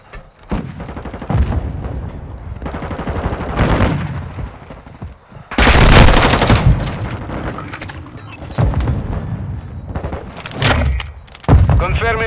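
Sustained gunfire and explosive booms from Call of Duty: Modern Warfare II in a hardcore Hardpoint match, loud bursts recurring throughout with game voice callouts layered over the shooting.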